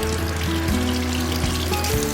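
A tap runs steadily while raw chicken thighs are rinsed before cooking in cast iron, making a close, continuous splashing flow over a faint background hum.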